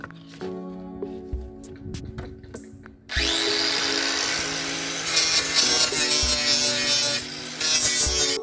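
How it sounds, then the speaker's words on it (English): Angle grinder grinding fiberglass during a bow structure repair on a 1984 Grady White boat; after a few quiet seconds of workshop noise, a loud continuous abrasive whine starts and holds steady, close up, with no talking. "The agony of listening to the angle grinder grind on fiberglass."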